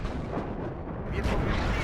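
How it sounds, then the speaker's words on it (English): Artillery fire in the video game WARNO, a dense rolling barrage of overlapping booms and blasts that stays loud and continuous throughout, with no clear pauses between impacts. "the artillery starts coming in"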